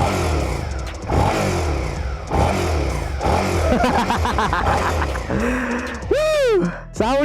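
A Suzuki V-twin motorcycle engine revs repeatedly, rising and falling in strong close bursts with a deep bassy note, ending in sharp high sweeping revs.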